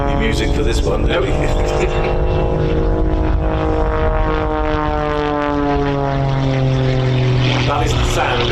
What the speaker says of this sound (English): That is the sound of a propeller literally beating the air into submission.